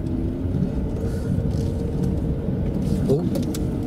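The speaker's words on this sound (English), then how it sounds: "It's a little bit temperamental to get going in this car." A temperamental car engine turns over and struggles to start in wet weather, a steady low rumble close by and fairly loud throughout, with faint rattles on top.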